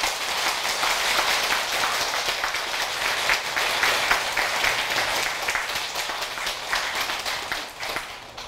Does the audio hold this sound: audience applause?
yes